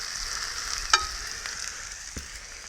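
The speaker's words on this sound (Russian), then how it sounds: "Ладушки жарит." Pancakes fry in a pan over an outdoor log campfire, a soft steady sizzle heard close but faint, with a couple of small clicks and pops.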